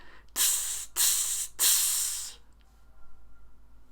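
A voice imitates an open hi-hat cymbal with three sharp, hissing bursts in a row, the last one held longer, followed by quiet breathing.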